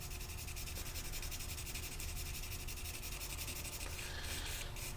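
Charcoal rubbed across paper to lay in coarse shading makes a continuous soft, dry scratching hiss with steady back-and-forth strokes, close and quiet, no voices.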